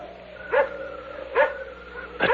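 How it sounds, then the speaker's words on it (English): A dog barks three times at an even, unhurried pace, moderately distant, in a tense horror audio drama set near a hillside vault, with no voices over the barks. "That barking dog."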